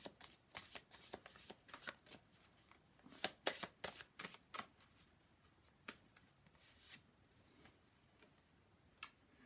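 Tarot cards being shuffled close up, a run of quick crisp riffling flicks and taps that bunch together at first and then thin out to occasional single snaps, fairly quiet with no talking.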